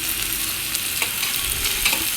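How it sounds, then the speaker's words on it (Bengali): Small fish with chopped green chilli sizzle in a pan while being stirred, a continuous close frying hiss broken by a few scraping strokes of the spoon, with no one talking. "হালকা কাঁচামরিচ কুচি দিয়ে আর একটু নাড়াচাড়া করে নিচ্ছি"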